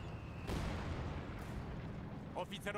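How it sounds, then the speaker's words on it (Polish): Mortar fire in the World War II strategy game Company of Heroes 2: a heavy low boom bursts in and rumbles on, with sharper crackling impacts near the end, beneath a voice. "Są moździerze kolejne."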